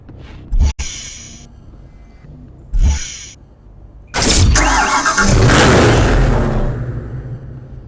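Engine startup of a Dodge Charger four-door sports sedan in Need for Speed Hot Pursuit Remastered: two short bursts, then the engine catches and roars loudly into a sustained, revving idle.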